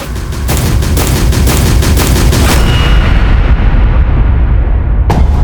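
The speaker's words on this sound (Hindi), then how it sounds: "अभी अभी स्कूल के अंदर से गोली चलने की आवाज आई है" A rapid burst of loud gunshots fires in quick succession inside a school, then fades into a rumbling echo, followed by one more sharp crack.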